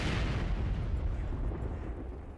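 Mortar fire lands in a Company of Heroes 2 battle, a dense rumbling barrage of distant explosions and booms that holds steady and fairly quiet throughout.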